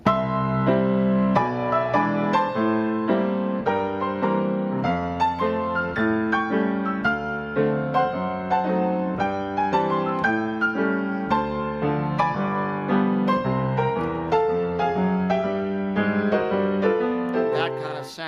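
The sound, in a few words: stride piano with octave bass and chords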